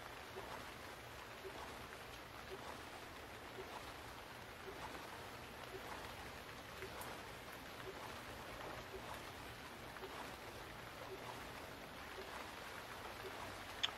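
Steady rain in the survival game Stranded Deep, a continuous dense patter and hiss at even loudness throughout, with no one speaking.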